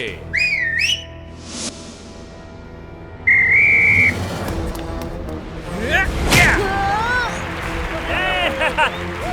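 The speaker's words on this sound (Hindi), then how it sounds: "सीटी बजा के।" Sharp, shrill whistle blasts ring out, several short warbling toots plus one steady longer blow, amid thumps, scuffling and voices in a comedic karate garba dance-fight scene.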